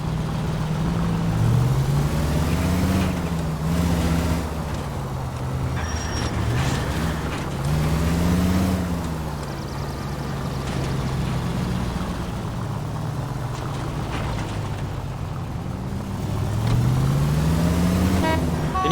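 Car engine drones steadily under in-game city traffic from L.A. Noire, with a horn honking in rising, wavering blasts near the start and again toward the end.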